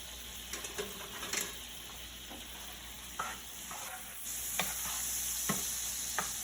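A spoon stirs butter and pasta water in a hot pan while a soft, steady sizzle hisses underneath and scraping strokes recur at irregular intervals, close and quiet.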